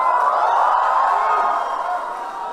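A young audience at a live stand-up comedy show cheers and whoops together, a sustained loud crowd roar that eases slightly toward the end.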